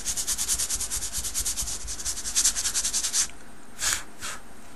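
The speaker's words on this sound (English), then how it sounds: "give it a light sanding." A small piece of wood is sanded by hand with 220 grit sandpaper, giving quick rhythmic rasping strokes close up, then a pause and a few slower single strokes.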